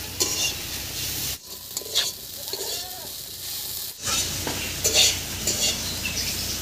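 Fresh garden beans fry in a pan while a spatula stirs them, giving a continuous close sizzle broken by scraping strokes and brief pauses, with no talking.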